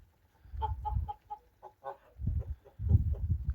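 A gander and two geese in a village farmyard give a short run of nasal honking calls close by, followed by low, dull rustling and thumping sounds.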